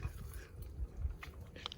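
Close, soft crunchy chewing of bacon at a breakfast in a hot tent on an overnight camping trip, a few low irregular bites with faint rustle and no talking.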